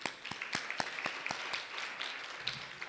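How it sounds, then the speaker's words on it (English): Audience applause at a government Women's Month launch event in KwaZulu-Natal: a burst of steady clapping from a crowd, fairly close, with sharp individual claps standing out over a continuous wash, lasting the full stretch without talk. "A big round of applause for him."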